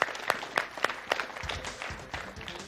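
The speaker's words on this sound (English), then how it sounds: "Let's have a big round of applause for my man," A small audience at a basketball shooting session gives a short burst of clapping, a few sharp distinct claps first and then a softer scattered patter, quiet and brief.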